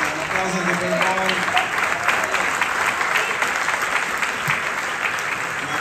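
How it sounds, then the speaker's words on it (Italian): Audience applause fills a theatre after an Italian concert by a piano-and-instrument duo, a dense, steady wash of clapping from a large crowd that holds evenly for several seconds. "un applauso anche per voi."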